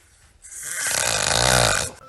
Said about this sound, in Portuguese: Eu passei a roncar bastante também.